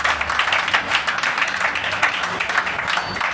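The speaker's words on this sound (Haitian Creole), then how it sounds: "Votre applaudissement, s'il vous plaît." A crowd claps steadily at a wedding ceremony just after the blessing, a dense, sustained patter of many hands at moderate loudness with no voices over it.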